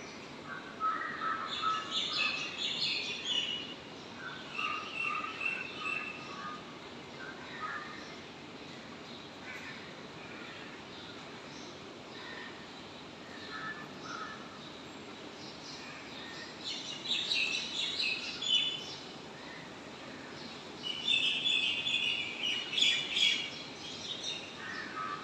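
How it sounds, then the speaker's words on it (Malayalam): Birds calling outdoors in the morning, with crow-like caws in several bursts over a steady background hiss, moderately distant and no talking. "ഞാൻ അടുക്കളയിൽ നിന്നുകൊണ്ട് വെളിയിൽ നല്ല കിളികളുടെ സൗണ്ട്."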